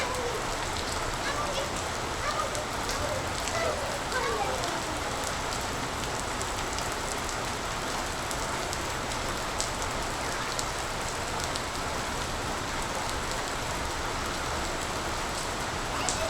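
Heavy pre-monsoon rain pours down steadily in Konkan, a dense unbroken hiss of drops striking surfaces throughout, with no break in intensity.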